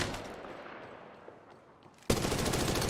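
Automatic gunfire in the mobile battle royale game Apex Legends Mobile bursts in suddenly and loudly as a dense, rapid stream of shots after a stretch of quieter game ambience.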